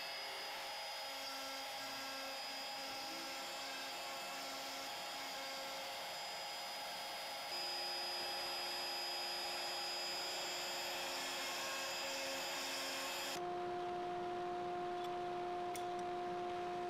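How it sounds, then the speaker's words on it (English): CNC router spindle with a 60 degree V-bit running a V-carve toolpath for a clapper board inlay, a steady high whine with shifting tones as the cut changes, continuous and fairly loud throughout with no talking. "We'll re-zero our Z-axis with the same 60 degree V-bit and run our V-carve toolpath."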